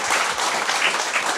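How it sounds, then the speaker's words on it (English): An audience at a live event in a Vancouver store breaks into applause, a brief, full burst of many people clapping close together at an even level. "Round of applause."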